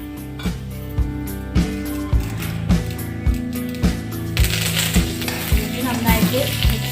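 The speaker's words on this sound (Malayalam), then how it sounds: "വറ്റൽമുളക് ഒരു ബ്രൗൺ കളർ ആകുമ്പോഴത്തേക്കും കറിവേപ്പില ഇടുക." Dried red chillies and curry leaves sizzle and crackle in hot oil for an egg and peas dish, a steady close frying hiss with regular stirring knocks, over background music.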